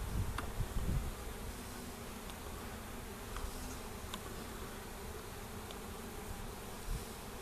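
A steady cloud of honeybees hums during a hive inspection, the continuous buzzing close and even, with no voices.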